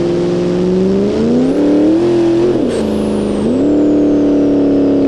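A Dodge Dakota R/T launches for a drag run without nitrous, its engine revving loud and close, climbing through shifts with brief dips as it pulls away.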